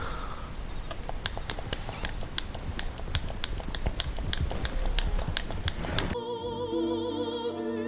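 A horse gallops in the Red Dead Online video game, hooves striking in a fast, even rhythm for about six seconds before cutting off abruptly to quieter game sounds.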